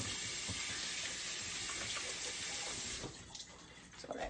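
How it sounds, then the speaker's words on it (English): Tap water gushes into a kitchen sink during handwashing, a close, steady rush for about three seconds before it cuts off, leaving a few light splashes and clinks. "Wash my hands."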